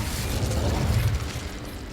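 The Incendio fire spell cast in Hogwarts Legacy: a two-second rumbling whoosh of flame with crackling bursts, fairly loud and steady before easing off, with no talk over it.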